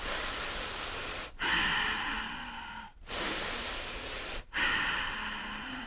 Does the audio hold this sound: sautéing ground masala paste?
no